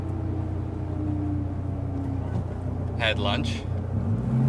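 A Dodge SRT4 cruises along a backwoods road, its steady low engine drone and road rumble running beneath someone talking.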